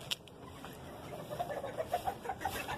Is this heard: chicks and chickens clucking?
yes